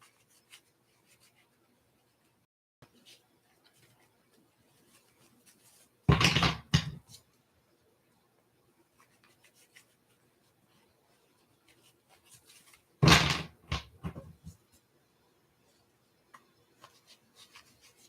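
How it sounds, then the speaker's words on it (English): Two short bursts of tarot cards being shuffled, each a quick riffle lasting about a second, heard up close in an otherwise quiet room with no talking. "Okay, I'm shuffling for Sharon now."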